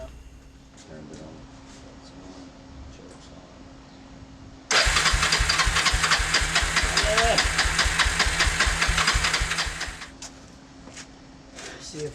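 A neglected ATV engine fires up and runs with a loud, fast, rattling chug for about five seconds before cutting out, with people talking nearby before and after.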